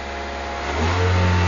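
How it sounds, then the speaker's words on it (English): A car engine revs up as the gas pedal is held down during engine work, climbing from a steady idle to a louder, higher sustained drone near 3,000 RPM, close and alone without talk. "I just need to rev the engine while I squirt it in there."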